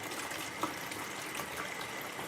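Tap water pours into a pot for boiling in a home kitchen, a steady hissing gush at moderate level that stays even throughout, alone without speech.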